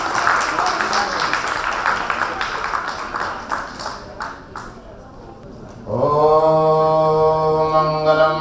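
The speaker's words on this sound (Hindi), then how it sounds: "जोरदार ताली के साथ" Loud, dense applause from the audience at a national saints' society gathering, lasting several seconds before fading, after which steady harmonic chanting of a prayer begins.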